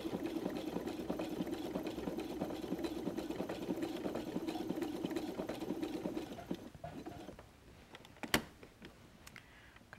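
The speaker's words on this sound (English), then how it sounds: "So sew all the way across." A sewing machine fitted with a Teflon presser foot stitches across a faux suede seam. It makes a quiet, rapid, steady whirring run for about six seconds, then stops, followed by a few faint clicks.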